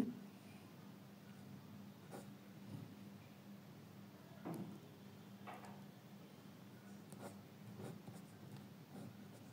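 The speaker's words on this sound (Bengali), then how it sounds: "আমি এখানে কন্ডিশনটা লিখে দিচ্ছি" Hand-written math lines being put down on a board or paper: soft scratchy strokes and taps close by in a quiet room, with faint background hum and no speech.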